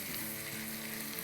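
Spices frying in a pan as a raita tempering is prepared, a dense, steady sizzle heard close and alone without a break.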